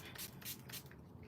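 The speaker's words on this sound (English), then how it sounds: "Let me spray it." Several quick, soft hissing spritzes from a spray bottle, close up, in a rapid run of three or four bursts.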